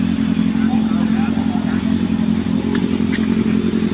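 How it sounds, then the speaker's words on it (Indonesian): A Kawasaki ZX25R motorcycle fitted with an R9 aftermarket exhaust, a loud continuous engine rumble with crackling texture, close by and steady throughout. "jadi itu dia suara dari knalpot R9 yang dipasang di ZX25."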